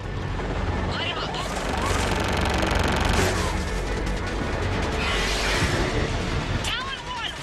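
Dense, continuous gunfire and explosions from weapons in the Mass Effect 3 video game, loud and unbroken throughout as a roaring barrage with crashes layered on top.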